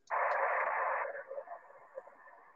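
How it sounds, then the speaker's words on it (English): A weak, distant amateur radio station comes through static on a simplex net, a burst of band-limited hiss and garbled signal that fades into fluttering, broken fragments. "I must be hearing a distant station there"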